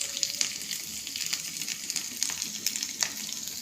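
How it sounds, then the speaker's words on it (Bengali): Chilies and green beans frying in a pan, a continuous close hiss of hot oil with faint pops and a few light stirring clicks throughout. "আমি এখন মরিচ আর সিমগুলোকে ভেজে নেব"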